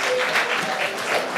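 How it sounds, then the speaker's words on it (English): Steady applause from a conference plenary session audience, a dense patter of many hands clapping throughout. "Can we give a round of applause to our session chair"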